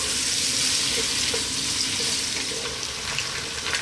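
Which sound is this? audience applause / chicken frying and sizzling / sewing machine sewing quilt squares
chicken frying and sizzling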